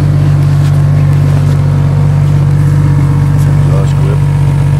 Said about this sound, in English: Let her run for a few minutes and charge up the old battery.